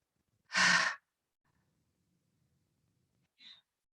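A single breathy exhale forced out through the throat during a yoga practice, loud and close for about half a second, followed by a fainter, shorter breath near the end with quiet in between.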